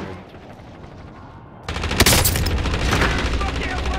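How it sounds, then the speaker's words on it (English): A precision airstrike in a war video game hits with a sudden loud burst of explosions and crackling blasts after a quieter opening, staying dense and heavy to the end. "Enemy precision airstrike, take cover!"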